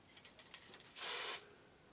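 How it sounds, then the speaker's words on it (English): A single short hiss of hairspray mists over a vintage updo, close and clear against a quiet room. "Give it a couple sprays."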